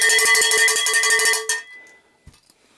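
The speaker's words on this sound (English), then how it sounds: "these are copper cowbells" A copper cowbell is struck rapidly in a steady, ringing rhythm for over a second, then stops abruptly, leaving faint handling knocks.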